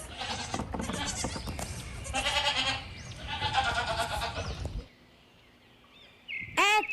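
A goat bleats several times in a row, loud and close, then a short quiet pause before a bird chirps briefly.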